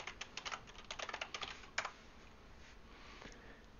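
Fingers tap out a password on a computer keyboard in a quick burst of clicky keystrokes, then a pause and a couple of faint taps, close and alone.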